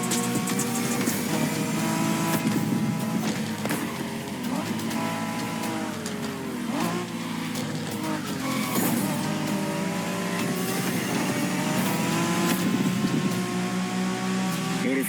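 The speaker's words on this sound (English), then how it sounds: "We're going for some proper Japanese street racing." Race cars in The Crew Motorfest tear through a Japanese street race, engines droning and shifting pitch continuously with occasional tire squeal, all loud and steady, with bits of game voice chatter mixed in.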